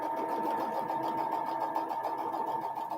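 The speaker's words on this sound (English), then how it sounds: "Let me sew this final seam." A sewing machine stitches a seam with a steady, fast mechanical whir and rapid needle rhythm, close and continuous throughout with no pauses.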